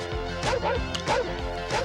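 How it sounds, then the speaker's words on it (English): A dog barking at a picnic: repeated short barks and yips in a steady rhythm, close and fairly loud over a busy background. "The dog went on the picnic basket."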